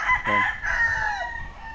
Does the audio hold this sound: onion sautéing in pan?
no